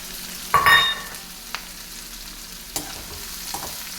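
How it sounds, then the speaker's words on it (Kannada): Chopped onions and green chillies fry in hot oil with cumin, a soft continuous sizzle broken by a few sharp clanks and stirring knocks of a utensil against the pan, close by and without speech. "ಇದನ್ನ ಇವಾಗ ಫ್ರೈ ಮಾಡ್ಕೋಬೇಕು"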